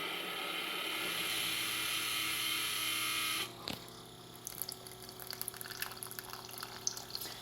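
A coffee machine dispenses water into a cup, starting with a steady hissing stream, then a sharp click, then fainter dribbles and small mechanical ticks as the flow tapers off.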